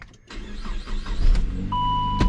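A Saab 9-5 engine cranks and catches, rising into a steady idle rumble, with a whirring motor earlier and a short electronic beep near the end.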